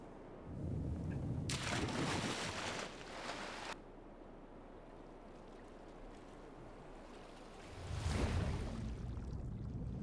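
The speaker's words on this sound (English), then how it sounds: "let's just jump into the water." Splashing water as a character jumps in and swims in the Shadow of the Colossus PS4 remake, with two broad bursts of watery churn separated by a quieter stretch of lapping ambience.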